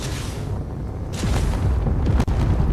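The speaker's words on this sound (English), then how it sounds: "Standard rocket launchers." Standard rocket launchers firing on a Space Engineers warship: a dense, continuous barrage of low booming blasts and rumbling thuds, loud and close, intensifying midway with a sharp crack near the end, no speech.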